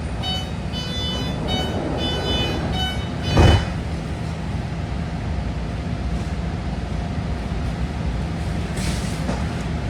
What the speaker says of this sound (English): here we are pulling out of Hayward Station, with our next stop being South Hayward